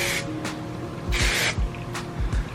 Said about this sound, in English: So the first product I'm going to use is hairspray before we go any further.